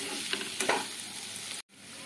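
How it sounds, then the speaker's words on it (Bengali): Sattu (gram flour) roasting with spices in a pan on low to medium flame for a mushroom dish, giving a steady close sizzle with a few scraping stirs, then a brief dropout before the frying resumes. "এবারে ছাতুটা দিয়ে দেওয়ার পরে আমি এটাকে লো টু মিডিয়াম ফ্লেমে রেখে ছাতুটাকে কষাতে থাকবো।"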